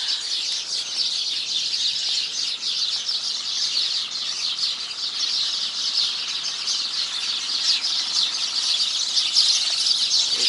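Many birds chirp and squeal in a dense, continuous high-pitched chorus outside a hostel in Aswan, Egypt, moderately loud and unbroken for about ten seconds, with no voices.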